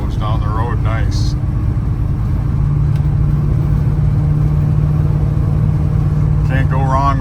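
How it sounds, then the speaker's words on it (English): Lowered 1985 Chevrolet C10 square-body short-box pickup with dual exhaust, a steady loud engine drone as it drives, with brief bits of voice at the start and end. "Got some good sounding dual exhaust on it."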